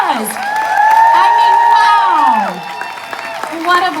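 A conference audience at a Mary Kay career event in National Harbor applauds and cheers for the interpreters, a loud, sustained wash of crowd noise with whoops, easing toward the end.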